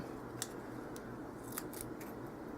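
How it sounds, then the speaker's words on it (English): Scissors snipping clear plastic backing near paper in a crafting session: a few sharp, quick cuts, close and quiet over a faint steady background hiss. "I just cut that clear backing close to it"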